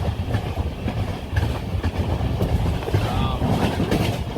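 Hazrat Nizamuddin Express train running through misty hills in AC 2 Tier, a steady close rumble and rhythmic rattle of the carriage continuing throughout, with wind buffeting the microphone.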